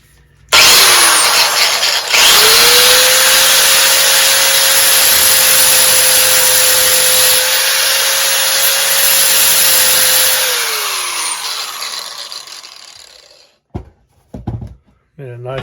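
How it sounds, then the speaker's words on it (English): A power tool whines at a steady pitch for about ten seconds as it cuts a slot into the pivot pin of a 1968 Johnson 9.5 HP outboard, then spins down, followed by a few faint clicks and handling noises. "I'm going to cut a slot in this so I can get a bladed screwdriver on it and get it out."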